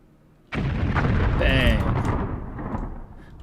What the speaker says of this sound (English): Then I press my bombing button.